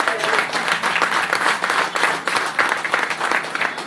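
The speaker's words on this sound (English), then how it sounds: "Give yourself a round of applause" A crowd at a political meeting applauds itself, loud, dense clapping from many hands close by, steady and continuous throughout with no voices breaking through.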